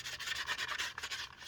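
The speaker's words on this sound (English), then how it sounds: "we're using a very fine sandpaper or sand block to do it" A football helmet shell is rubbed with a very fine sandpaper block, giving a steady, close, hissing scrape with quick back-and-forth strokes and no talking.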